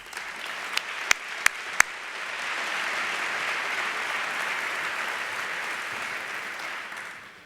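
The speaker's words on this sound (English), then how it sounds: "let's all give them a warm round of applause" An audience at an alumni reunion breaks into sustained, even applause that swells and holds for several seconds before tapering off, preceded by a few scattered early claps.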